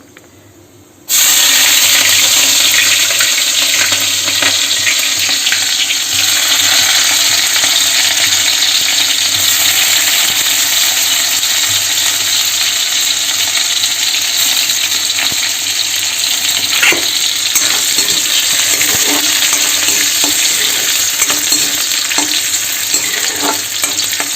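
After a brief quiet moment, cumin, chilies and onions hit hot oil and burst into loud, continuous frying and sizzling that carries on steadily, with occasional stirring scrapes and no voices.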